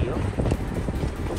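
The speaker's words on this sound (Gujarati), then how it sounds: "ગજબ એટલે ગજબ પવન છે અને ફૂલ ઠંડુ વાતાવરણ છે" Strong, cold wind buffets the microphone outdoors in Dubai, giving a loud, continuous low rumble with gusty swells.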